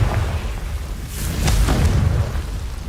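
Confringo blasting spell going off in a Harry Potter video game, a low rumbling boom with a bright crackling burst near the middle, swelling and lingering over a steady game background.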